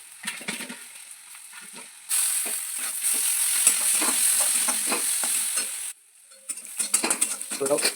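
Ginger garlic paste fries in a pan with quiet stirring scrapes at first, then a loud, bright sizzle for a few seconds, dropping away before renewed stirring and crackle; no talking.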